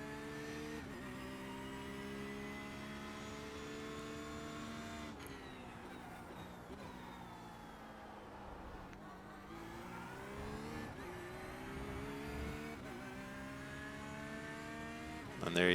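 A Porsche GT3 R race car engine laps the Spa circuit, droning steadily at high revs with gear changes and dips and rises in pitch, heard from on board with no talk.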